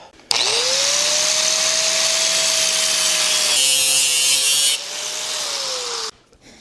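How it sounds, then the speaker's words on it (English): A cutoff wheel grinds through a steel turbo pipe for a Datsun wagon with a GT3582 turbo, a loud steady high whine that spins up, holds, roughens briefly partway through, then winds down. "I'm going to have to use a cutoff wheel, I think, because my bandsaw blade is super dull and will not cut this well."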